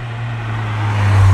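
A Litchfield GR Yaris engine drones steadily, its low hum rising in pitch and loudness toward the end as the revs climb, with auto rev-matching blips engaged.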